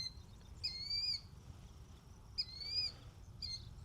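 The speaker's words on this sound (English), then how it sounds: "I think there's a sandpiper nest around us because this bird is not happy that we're here." An agitated sandpiper near its nest at the edge of a hail-damaged soybean field gives three sharp, high, slightly descending calls at uneven intervals, fairly faint over a low outdoor rumble.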